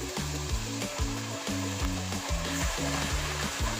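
Patotin sauce with whole black pepper, chicken cubes and Worcestershire sauce sizzles in a pan over low heat while being stirred, giving a continuous close frying hiss broken by scraping strokes.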